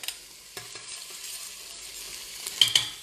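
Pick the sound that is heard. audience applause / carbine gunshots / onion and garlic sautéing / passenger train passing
onion and garlic sautéing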